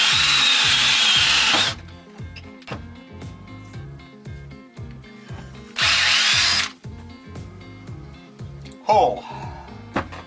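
Bursts of a power drill with a dull bit boring into material, two long high-pitched whirring runs and a short third one, with clattering and handling noises between.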